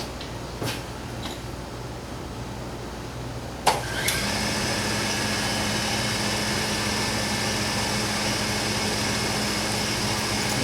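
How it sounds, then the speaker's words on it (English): A machine starts up with a sharp click and settles into a steady whirring hum while grinding valve keepers for a VW 2110 cylinder head, continuous and close with no talk. "I'm going to turn the machine on, grind these"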